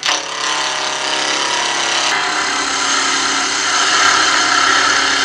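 A wood lathe runs steadily at about 2,000 RPM while a Hermione Granger style magic wand is being turned, giving a continuous loud motor whine with a dense mechanical hum and a slight shift in tone partway through.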